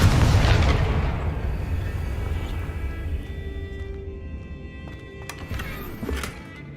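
A blasting spell in the game Hogwarts Legacy: one loud booming explosion at the start that rolls off into a long rumbling decay, followed by a few fainter thuds and clatters.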